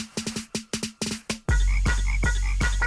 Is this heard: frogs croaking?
yes